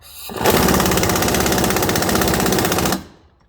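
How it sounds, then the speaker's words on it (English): Impact gun tightening a wheel nut on a 2012 Dodge Journey during a front brake pad change, one loud sustained rattling burst of about two and a half seconds close by, with no talk. "if you don't have an impact gun, that's fine. Tighten this back up"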